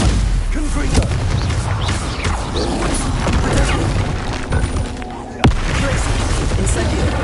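Confringo spell blasts in a Hogwarts video game, heavy booming impacts with crackling and mechanical clatter over dense game ambience, one sharp, loud burst standing out near the end.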